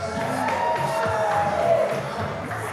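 An audience at a senior services fashion show cheers and applauds steadily throughout, with scattered shouts and whoops rising from the crowd.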